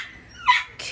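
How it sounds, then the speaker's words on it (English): A dog nearby lets out a high, thin whine that rises into a short yelping bark, then another sharp yip starts. The sound is close and fairly loud, with no talking. "Sorry, we have to hear the nuisance of the dog, but she will not stop jumping on us if we let her go right now."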